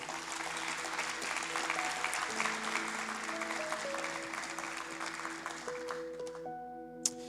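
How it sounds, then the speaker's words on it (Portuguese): A youth service congregation applauds the Lord, a continuous wash of clapping beneath held keyboard chords, fairly faint, dying away toward the end as the music carries on. "Vamos aplaudir o Senhor por isso?"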